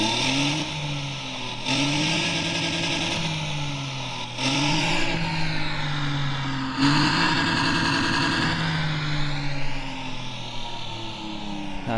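A Porsche 911 2.0 coupe engine revs up loudly in repeated rising pulls, each climb in pitch briefly cut before building again, a close and continuous mechanical roar.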